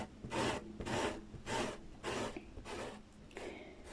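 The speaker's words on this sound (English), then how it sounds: "when you spread it, you hold your squeegee down so that you can spread it" A squeegee spreads paint across a metal tray in repeated rasping strokes, six evenly spaced scrapes close up with no talking.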